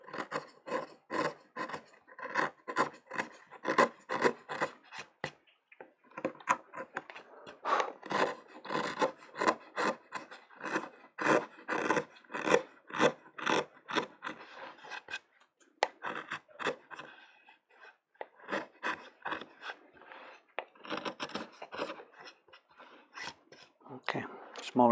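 A chisel cuts into a woodblock for Japanese printmaking with quick, repeated scraping strokes in rapid bursts, close and crisp, broken by short pauses as the carving moves from spot to spot.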